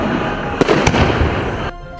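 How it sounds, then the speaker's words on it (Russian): Festive fireworks salute in Anapa, Russia, crackle and pop continuously, with two sharper bursts standing out against a dense, loud sputtering wash before it drops off. "Как в Анапе отметили День защитника Отечества"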